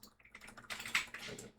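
Quiet, close clatter of fingers typing a short command on a computer keyboard, a quick run of soft keystrokes over about a second and a half.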